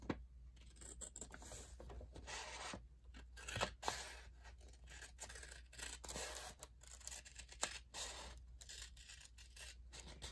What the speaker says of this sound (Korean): 이렇게 6장을 다 반으로 접었으면 가위로 자를게요.